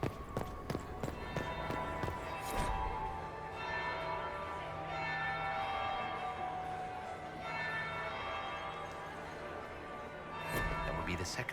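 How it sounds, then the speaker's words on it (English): A church bell rings in the video game Dragon Age Inquisition, with several strikes that leave a long sustained ring. It is spaced out across the scene over a busy ambient background. "That will be the second bell."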